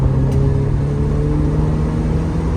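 A 1990 Porsche 944 S2 Cabriolet with a 3-liter engine and 5-speed gearbox, running steadily at high revs, a loud continuous engine drone with a strong steady hum throughout, no voices.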